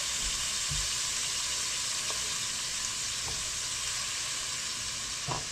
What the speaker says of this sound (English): First we're going to saute them, because they're back to being regular onions now.